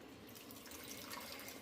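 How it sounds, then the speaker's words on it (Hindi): Soft, steady running and splashing water while muddy leafy greens are washed in a second rinse, faint and continuous without speech. "ये दूसरा पानी है, एक पानी से धो चुकी हूँ।"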